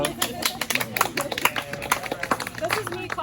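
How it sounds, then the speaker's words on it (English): A person claps their hands at a neighborhood meeting, giving quick, sharp slaps over steady crowd chatter and murmuring voices nearby. "This is me clapping for you since you're coming."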